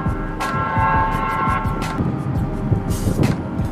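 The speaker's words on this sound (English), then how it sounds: "I'm sorry for the train that's coming right now" A train rumbles past nearby, a steady low roar with rhythmic clanking and bursts of high hiss, loud and continuous throughout.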